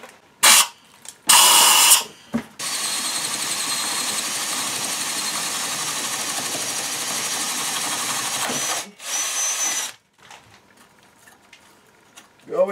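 Power drill boring a hole through a part for a DIY sliding camera mount: a steady, loud whine runs about six seconds, bracketed by short bursts and bumps, then drops off to quiet handling noises.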